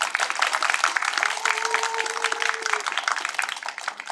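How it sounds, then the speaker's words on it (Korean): Dense audience applause filling the space at a 50th-anniversary ceremony's academic forum, steady throughout, with a faint sustained tone in the middle. "박수 부탁합니다"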